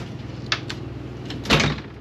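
Storage cupboards open and close in the bedroom of a 2019 Thor Motor Coach Hurricane 35M motorhome: a few soft knocks, then a louder sliding, clattering bang near the end, heard close with no talk.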